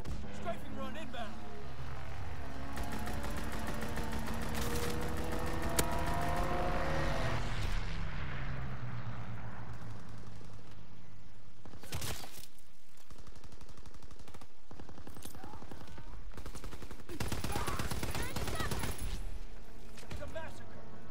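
A fighter plane strafing run in Call of Duty WWII: sustained rapid machine-gun fire with aircraft roar for several seconds, then scattered bursts and impacts, with voices talking over the action.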